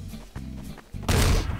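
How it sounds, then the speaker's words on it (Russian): An explosion in Garry's Mod hits as a sudden loud, broad burst after a couple of softer thumps, cutting off abruptly. "взрыв был"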